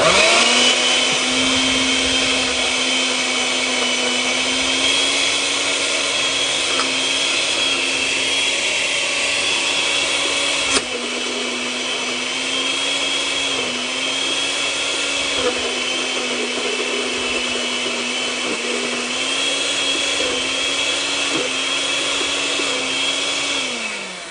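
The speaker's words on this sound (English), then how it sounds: "So I'm going to go ahead and blend it up." A blender churns avocado pesto at close range with a loud, continuous whir, its motor pitch wavering slightly as it runs.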